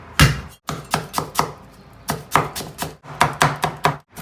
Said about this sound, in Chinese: 我们先把葱姜蒜切哈，